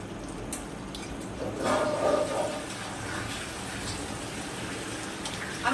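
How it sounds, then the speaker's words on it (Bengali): Fish being washed under running water at a sink, a steady wash of flowing water with a brief louder splash partway through, close and continuous. "আগে মাছগুলো ধুয়ে নিই"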